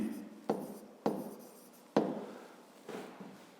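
A pen writes a math exercise on paper, giving four or five scratchy strokes, each with a sharp start and a slow fade, close and fairly quiet.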